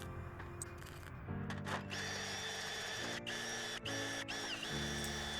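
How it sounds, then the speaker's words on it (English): A wire wheel spun by a drill scrubs welds on a welded metal surfboard piece, whining steadily with short pauses and pitch shifts as the tool is pressed and eased off. "I then used a wire wheel on a drill and cleaned up all the welds"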